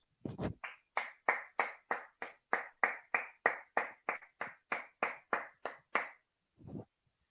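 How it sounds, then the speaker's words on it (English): Steady, evenly spaced claps from a single pair of hands, about twenty in a row, fairly close, then stopping. "Can we just give a round of applause?"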